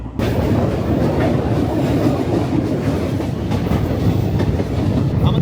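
A passenger train traveling from Jammu toward Kolkata runs past Hooghly station, its wheels rumbling and clattering on the rails in a loud, steady, close-up roar that holds for the whole stretch.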